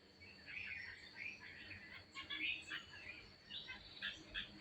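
A flock of small birds gathered to eat puffed rice put out for them, twittering and chirping continuously at a moderate distance over faint background noise.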